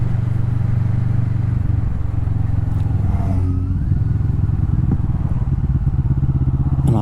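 A Kawasaki Vulcan S cruiser motorcycle rumbles steadily while being ridden through a narrow space, its low engine drone loud and close with a brief rise in revs midway.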